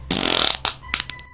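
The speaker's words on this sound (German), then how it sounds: "habe ich halt dann eine Furzaufnahme genommen" A recorded fart, used as raw material for sound design, gives a short wet burst of about half a second followed by several briefer sputtering pops, close and fairly loud, with no talk.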